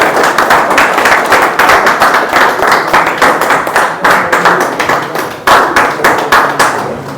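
Audience applause at a Rain BNB seminar in Mandi, Himachal Pradesh, as ambassadors are invited onto the stage: loud, dense clapping from a crowd, sustained throughout with slight surges and dips, no speech over it.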